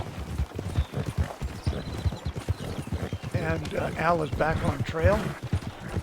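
In Red Dead Redemption 2, a horse pulling a cart across the Great Plains makes steady, close hoof clip-clops at a brisk rhythm throughout, while someone narrates over it.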